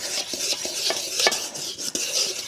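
Dry ingredients with a little salt are worked together in a bowl with a Danish dough whisk, giving a steady run of close scraping and stirring strokes with light clicks and no talk.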